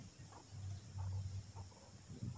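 Free-range village chickens cluck softly in short, scattered bursts at a farm garden where corn is being harvested, the hens sounding faint and somewhat distant over a quiet outdoor background with a faint insect hum.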